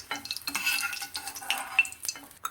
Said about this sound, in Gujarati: આપણું તેલ ગરમ થઈ ગયું છે તો સૌથી પહેલાં હું ખાવા માટે સાથે સાથે તળી લઉં